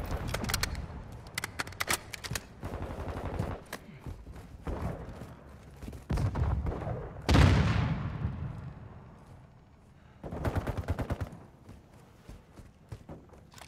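Gunfire in the Modern Warfare 2 multiplayer video game: several sharp bursts of automatic fire spaced across the stretch, a heavy explosion about halfway through with a decaying rumble, and footstep-like thuds between volleys.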